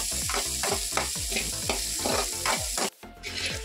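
Onion pieces fry in oil left over from frying paneer, a close steady sizzle with rhythmic scraping stirs, briefly cut off and then resuming.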